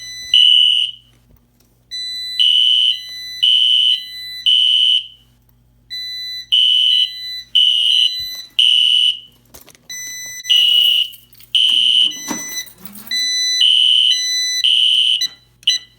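A smoke alarm, set off by smoke from a few matches, beeps loudly in repeated groups of three shrill high-pitched tones with brief gaps between sets, interrupted by a short crackling rustle.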